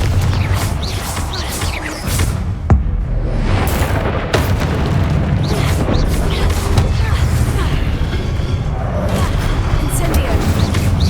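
Fire-blast spells in the video game Hogwarts Legacy boom repeatedly, with heavy low rumbles and crackling bursts in a dense, continuous battle din. There is no talk.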